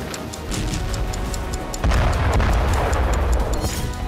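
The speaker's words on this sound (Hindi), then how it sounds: "मिसाइलों से प्रहार," Missile strikes in a war zone, a heavy continuous low rumble of explosions that swells partway through, with faint rhythmic ticking over the top and no voices.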